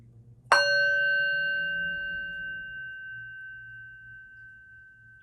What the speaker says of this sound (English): I'll ring the bell now and focus on the sound of the bell until it disappears